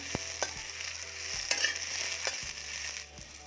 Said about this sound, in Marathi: आता त्या तेलामध्ये हे जे आपण सोलून घेतलेली भेंडी आहे ते परतून घ्यायचं आहे